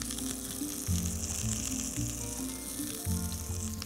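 Scallops searing in a very hot pan, a steady loud sizzle of hot fat running the whole time with faint background music tones, no voices.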